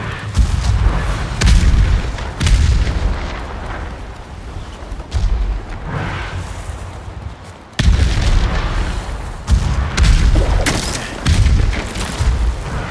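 Repeated heavy booms and rumbling explosions with scattered gunfire in the samurai action game Ghost of Tsushima, loud and close, arriving in waves every second or two over about thirteen seconds.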